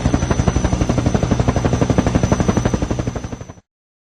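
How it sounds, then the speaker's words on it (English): A helicopter's rotor beats in a fast, even chopping pulse that stays loud and close, then trails off near the end with no voices. "Helicopter."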